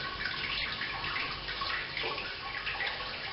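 Sparge water runs steadily through a Robobrew home brewing system during an IPA brew day, a constant close splashing, gurgling flow with no pauses.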